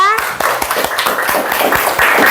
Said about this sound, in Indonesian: Boleh tepuk tangan semuanya?